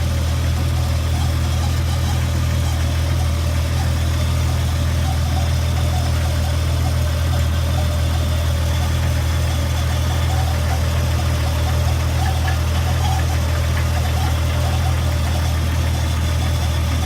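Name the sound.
1999 Jeep engine idling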